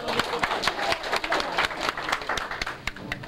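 Audience applause in a hall, dense overlapping claps from a crowd sustained throughout, moderately loud with some background voices mixed in.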